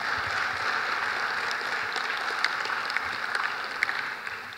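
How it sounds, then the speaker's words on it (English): Steady broadband clapping from a crowd at a teachers' convention town hall, sustained and fairly even throughout, with a few sharper claps standing out near the end. "big round of applause."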